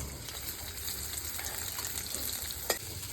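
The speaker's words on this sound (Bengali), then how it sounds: "তেলের মধ্যে পেঁয়াজ দিয়ে দিতেছি।" Onions fry in hot oil in a pan, a continuous soft crackling sizzle with one sharp utensil clack near the end, and no one speaks.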